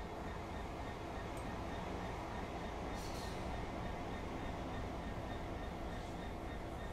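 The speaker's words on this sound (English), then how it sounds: "I think I just saw another train pass." A train rumbles past in Train Sim World on the East Coastway route, a steady, dense, loud rolling roar that fills the whole stretch, with a few faint higher clinks on top.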